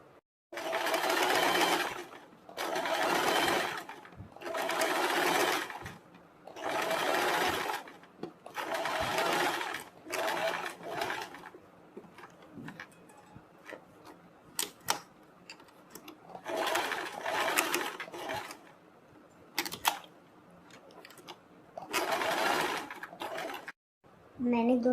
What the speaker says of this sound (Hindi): और हम अब इनके ऊपर सिलाई लगाएंगे। वो सिलाई हम यहाँ से लगानी शुरू करेंगे।